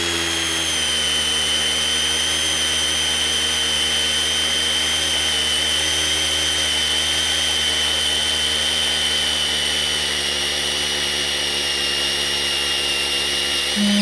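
A Milwaukee M12 Fuel Gen 2 hammer drill fitted with a half-inch spade bit runs at a loud, steady high-pitched whine for the whole stretch, close up and with no talking.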